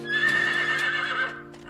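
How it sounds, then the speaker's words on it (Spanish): A horse lets out a single long, loud neigh that wavers in pitch and fades away at the end, heard close and alone. "El caballo."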